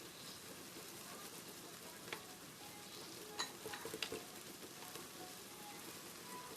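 Masala spices for egg biryani (garam masala, biryani masala, chilli powder) stirred and frying in a pan, giving a steady soft sizzle with a few scraping clicks of the spoon, faint and close.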